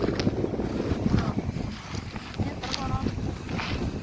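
Wind gusts buffet the microphone on an open sandy riverbank of the Bharathapuzha at Ottapalam, rumbling unevenly throughout while people talk.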